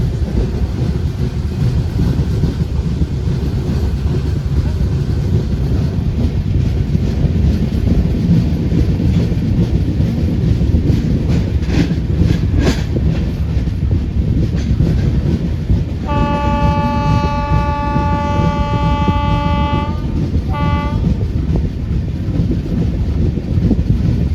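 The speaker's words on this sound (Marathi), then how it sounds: "पुन्हा थांबते असं वाटतंय, कारण ट्रेन स्लो झाले" A passenger train rolls along the rails on a Konkan journey, slowing down, its steady rumble and wind rush continuous throughout, with a horn-like toot sounding briefly near the end.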